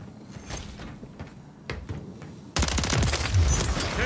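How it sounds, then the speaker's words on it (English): Magazine swap on an MTZ 556 rifle in Call of Duty MW3, with metallic clicks and sliding mechanism noises, then a sudden burst of loud, dense automatic gunfire near the end. "Switching mags."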